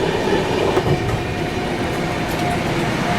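The Shiv Ganga Superfast Express rolls along the tracks near Sahibabad, heard from inside as a loud, steady rumble with a faint rhythmic clatter of wheels.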